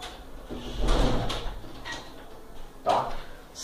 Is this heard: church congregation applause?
no